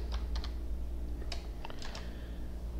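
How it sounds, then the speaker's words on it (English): Computer keyboard typing in Excel, a few scattered close keystroke clicks in short clusters over a low steady room hum. "we type in our function M inverse"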